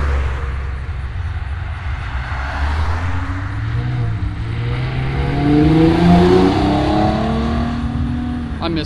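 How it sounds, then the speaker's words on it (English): A Genesis car pulls out at a cars and coffee meet, its engine note rising and swelling nearby over a steady rumble, with faint voices in the background. "Got a little Genesis pulling out."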